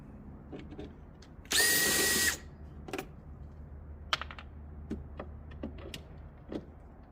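A powered screwdriver whirs in one short burst lasting under a second while driving license plate screws, followed by scattered small clicks and taps from handling the tools and plate.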